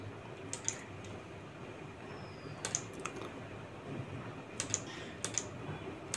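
An address is typed on a computer keyboard in scattered clusters of light, close clicking keystrokes with short pauses between bursts, quiet over a faint room hum.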